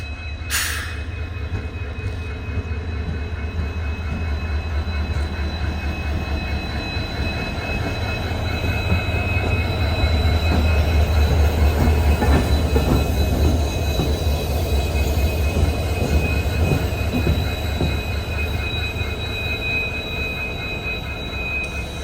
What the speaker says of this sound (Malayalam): നമ്മുടെ ആ ട്രെയിനിൻ്റെ ആ ലോക്കോമോട്ടീവ് അവിടെ പോയിട്ട് ഇനിയിപ്പോൾ തിരിച്ച് ഈ ഒരു ലൈനിലോട്ട് വരും